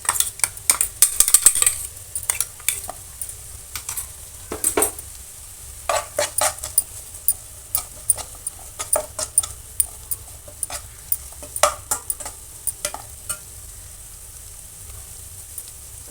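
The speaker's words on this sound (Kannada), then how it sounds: "ಜೀರಿಗೆ ಅದು ಹಾಕ್ತಾಯಿದ್ದೀನಿ." Ground cumin and coriander powder frying with onions in a pan for a restaurant-style fish curry: a faint, steady sizzle under frequent close spoon clinks and scrapes, with no talking.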